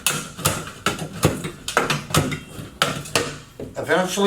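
A metal stud is bent back and forth while a door opening is framed, making repeated clanking, rattling metal strokes in a steady rhythm, close and fairly loud, with no talk over it.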